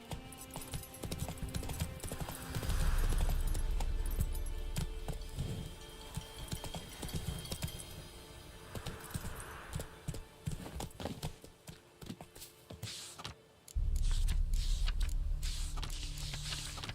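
Horse galloping in The Witcher 3 video game, a rapid clip-clop of hooves that runs steadily, fades, then returns with a low rumble.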